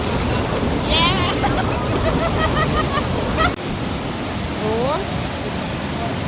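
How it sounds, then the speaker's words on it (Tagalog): Strong rushing water current at a hot spring resort in Margues, Esperanza, Sultan Kudarat, a loud, steady broadband roar that fills the whole clip, with a short exclamation and some speech over it. "Kusog-kusog lang galing ang tubig ba?"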